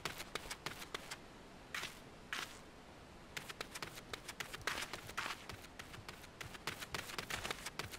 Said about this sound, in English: At least a little Lalafet footstep sounds.